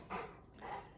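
A golden retriever indoors gives two short, quiet whimpering yelps about half a second apart, close and soft against a hushed room.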